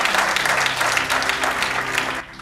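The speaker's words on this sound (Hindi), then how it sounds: "ताली बजाएं भाई के लिए।" A church congregation at a sermon breaks into dense, close applause for a fellow believer, clapping steadily for about two seconds before it stops abruptly.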